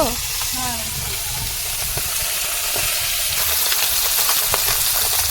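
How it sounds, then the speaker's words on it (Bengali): Koi fish frying in hot oil in a wok make a loud, dense, continuous sizzle close by, with faint talk briefly audible at the start. "কড়াইতে তেল গরম হয়ে গেছে তারপর মাছগুলো দিয়ে দেওয়া হয়েছে"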